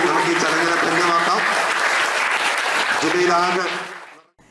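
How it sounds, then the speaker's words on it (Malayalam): Loud, sustained applause from an audience at a quiz competition ceremony in honour of a district quiz association secretary, filling the room steadily for about four seconds before quickly fading out. "വലിയ കയ്യടിയോടുകൂടി"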